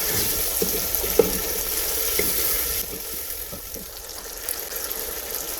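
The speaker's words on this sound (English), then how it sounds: "I'm gonna leave it for 5 to 6 minutes frying for it to defrost." Steady hissing sizzle of pepper frying in a pan, continuous and close, with a few faint clicks and clatters; the sizzle softens partway through.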